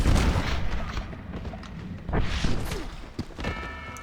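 Gunfire in Red Dead Redemption: heavy booming shots and thuds crack out repeatedly at close range amid a chaotic firefight, with bursts of noise and a whooshing impact.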